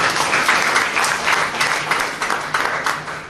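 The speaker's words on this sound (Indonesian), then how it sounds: "Berikan tepuk tangan bagi saudara." A church congregation applauds during a worship service, many hands clapping in steady pulsing bursts at close range for a few seconds, with no talking over it.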